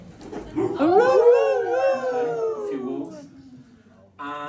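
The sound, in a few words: audience imitating wolf howl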